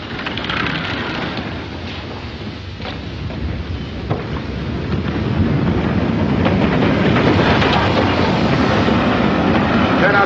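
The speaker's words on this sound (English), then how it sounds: "The train's coming in." A steam-era train pulling into a station in a 1941 film, a loud continuous rumble and rattle of wheels that builds toward the end, with faint voices under the noise.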